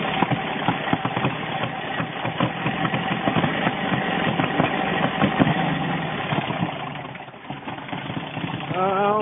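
A 1970 red VW Beetle engine runs loud and close, a dense, steady mechanical rumble that holds for about nine seconds with only slight surges, dipping briefly near the end before picking up again.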